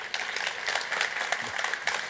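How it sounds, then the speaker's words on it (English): Audience applause at a Dutch game industry fireside chat, a steady wash of clapping hands at moderate level lasting throughout, with no clear voices over it. "Give him a great applause."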